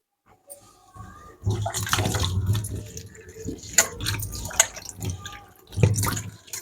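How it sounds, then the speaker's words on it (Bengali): Water splashes into a wok to boil fresh eggplant, an uneven close pouring and gushing with a few sharper splashes and clinks, no talking. "বেগুনটা সিদ্ধ করার জন্য একটু আমি পানি দিয়ে দিচ্ছি কড়াইতে"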